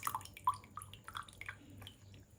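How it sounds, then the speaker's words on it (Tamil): Lemon juice squeezed by hand and dripping, a few soft wet drips and small squishy splashes in quick succession, close and quiet with no talk. "லெமன் ஜூஸ் பிழிஞ்சு விட்டுக்கலாம்."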